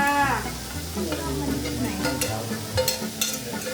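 Squid sizzles and clatters as it is stir-fried in a hot wok, with crackling bursts and scraping over a steady tonal background.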